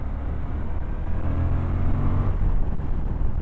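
A 2023 Suzuki V-Strom 1050DE motorcycle pulls hard after a downshift, its engine drone rising steadily under heavy wind rush, with no talking.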